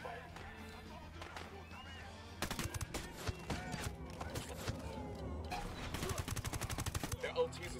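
Bursts of gunfire break out in the Ghost Recon Wildlands game, quiet radio-style voices first, then rapid loud volleys of shots in clusters.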